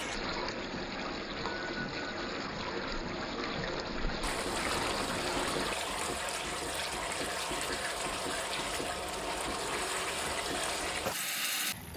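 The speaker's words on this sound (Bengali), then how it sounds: "আমি পাত্রটা ধুয়ে জাস্ট একটু জল অ্যাড করে দেবো।" Water runs steadily into a cooking pot for a Bengali boal fish curry with coconut paste, a continuous close pouring hiss that lasts the whole stretch.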